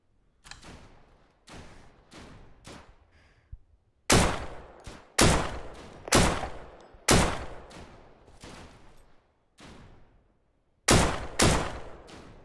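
AK rifle fire in the video game Deadside, repeated sharp bursts and single shots with short gaps between them, loud and close, with no voices.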